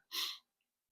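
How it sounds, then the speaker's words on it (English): A single short, sharp sneeze bursts out close by, followed by silence. "Yeah, I had to sneeze."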